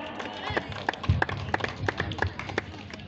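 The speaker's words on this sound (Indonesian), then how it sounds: "Sekali lagi kita berikan tepuk tangan yang meriah untuk Suci Amalia" An audience at a regional pageant final claps for a contestant, scattered sharp claps close by over a busy hall, with a voice talking over them.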